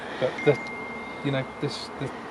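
Honey bees buzz around a hive on Wolstonbury while beekeepers work it, giving a fairly faint, intermittent drone with a few louder swells as insects pass close.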